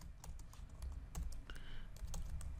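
Python code for Selenium is typed on a computer keyboard in quick, soft, irregular clicks at a quiet level, with no voice over it.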